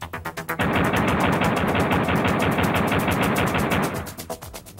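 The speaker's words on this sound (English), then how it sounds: "Then return to the game and fire some bullets." Pistol gunfire in the Nintendo 64 game Duke Nukem rings out as rapid, evenly spaced shots, first in short bursts, then a dense continuous stream of loud firing, easing back to separate shots at the end.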